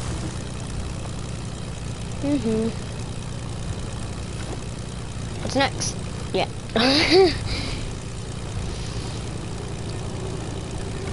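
A propeller plane in a video game drones with a steady low engine hum throughout, while people talk briefly over it.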